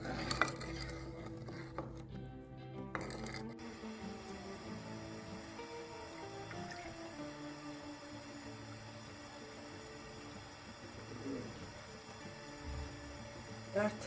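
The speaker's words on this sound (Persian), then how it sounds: "در تمام مدت پخت تقریبا باید ما همش بزنیم تا این به یه دسر سفت تبدیل بشه" A spoon scrapes and clinks against a pot of saffron custard cooking in milk on the stove, with a few clearer knocks at the start, then soft stirring under a low steady hum.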